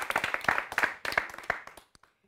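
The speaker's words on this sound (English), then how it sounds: "Please give a warm round of applause for Carleen Williams." An audience claps for a performer in a short burst of applause, a handful of close, sharp hand claps in an uneven rhythm that quickly thins out and stops.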